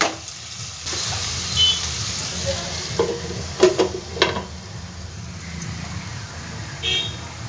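Chicken patty filling cooks in a covered pan over a low gas flame, giving a steady, soft sizzle with a few scattered metallic clinks near the middle.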